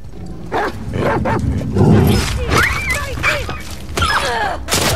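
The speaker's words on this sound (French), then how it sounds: "Putain, il y a un chien." A dog in The Last of Us Part II video game barks and yelps in repeated loud bursts, mixed with voices talking over it and the noise of gameplay.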